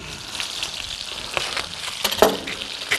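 Chicken stock boiling hard on high heat to reduce, a steady bubbling sizzle with scattered louder pops and crackles near the end, close and constant with no voices.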